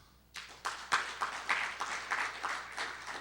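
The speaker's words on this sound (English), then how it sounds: "Another round of applause for all of our great speakers." Scattered clapping from a modest evening audience at a community energy event in Toledo, a thin ripple of hands that rises quickly and then tapers off, no voices over it.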